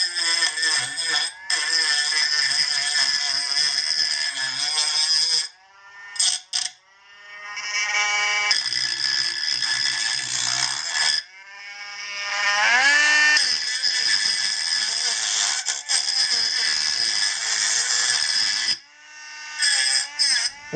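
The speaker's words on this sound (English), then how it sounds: "We'll go clean up the cuts a little bit here with my handy dandy friend, Mr. Dremel." Dremel rotary tool grinding and cleaning up cut edges on a metal catch-can bracket for a Kawasaki KLX140 mini supermoto build, a loud high steady whine with pitch dips as it bites the metal, stopping and restarting several times.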